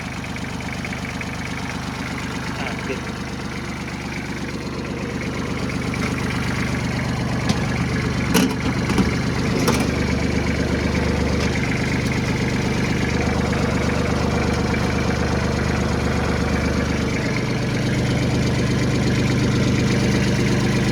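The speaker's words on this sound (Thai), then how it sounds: "เครื่องแห้งๆเดิมๆนะครับ เครื่องยนต์สามสูบนะครับ Direct Injection นะครับ" A Kubota L2605 four-wheel-drive tractor's three-cylinder direct-injection diesel idles close by, a steady low throbbing chug with a brief clack or two midway, running on alone without talk.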